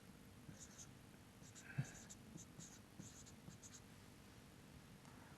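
Pen or marker scratching on a board during an accounting lesson, a series of faint, quick writing strokes in short bursts with a hushed background.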